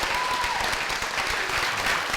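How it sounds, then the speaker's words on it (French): A television studio audience gives dense, sustained applause on a Burkina Faso variety show, loud and continuous throughout. "Public, je vais demander un tonnerre d'applaudissements pour Agozo."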